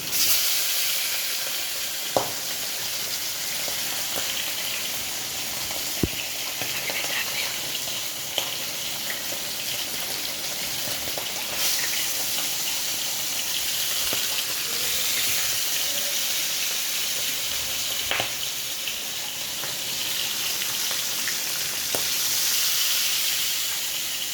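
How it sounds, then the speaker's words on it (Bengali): Fish frying in hot oil on a gas stove, a steady dense hiss of sizzling with occasional sharp pops and crackles, close and continuous with no talking. "মাছটা আমার ভাজা হচ্ছে"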